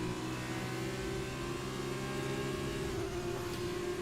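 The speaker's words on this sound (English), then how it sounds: "I do love the turbo noises these F2 cars produce" An F2 race car in a sim racing game at Silverstone, with its engine tone and turbo whine holding at a steady, fairly quiet drone throughout and shifting slightly in pitch near the end, with no voices.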